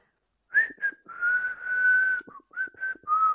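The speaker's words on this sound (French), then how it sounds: "Je siffle." A person whistles a clear, close tune in several held and wavering notes, one long sustained tone in the middle and short phrases around it, alone without speech.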